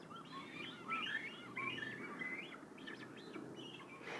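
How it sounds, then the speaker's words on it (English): Cormorant chicks squawking in a nest while being fed, a faint, distant chorus of thin, high repeated calls over soft outdoor ambience. "That sort of high-pitched squawking noise."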